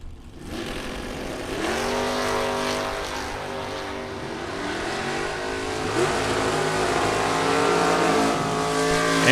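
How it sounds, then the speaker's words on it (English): A Dodge Challenger and a 1970 Chevelle race side by side at a bracket drag racing event, their loud engines roaring continuously and rising in pitch as they accelerate down the strip. "Melton from Delano, Minnesota, coming up in the Dodge Challenger left-hand side."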